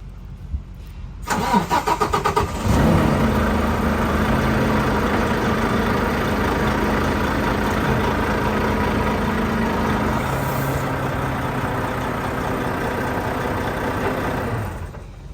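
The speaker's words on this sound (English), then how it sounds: "Now you hear the truck is going to go through this, all that click, click, click, the cycling." A large semi truck diesel engine cranks with rapid clicking, catches with a loud roar, then settles into a steady, rumbling idle that continues.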